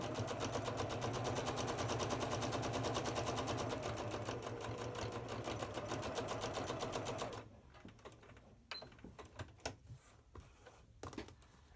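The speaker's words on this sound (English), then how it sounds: "you're going to just stitch right along that line that you marked" Sewing machine stitching a quilt block along a marked line, running in a fast, even rapid-fire rhythm for about seven seconds, then stopping, followed by quieter fabric handling and clicks.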